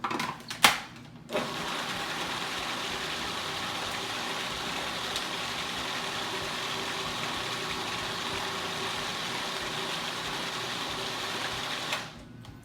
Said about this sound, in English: what we're gonna do is blend it just a tiny bit more